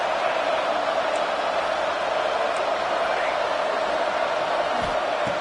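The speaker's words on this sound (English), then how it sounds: "this home crowd is fired up and ready to make a difference" A home crowd at a football video game, producing a steady roaring wash of cheering that sits loud and even throughout.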